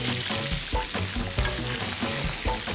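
Pork chops searing in a hot pan give a loud, steady sizzle and crackle that pulses slightly as they are moved, close up and with no talking.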